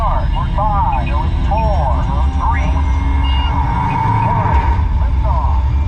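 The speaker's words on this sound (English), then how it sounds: "We have main engine start." The simulated rocket main engine start on the Mission Space ride at Epcot gives off a steady, low, heavy rumble under voices talking over it.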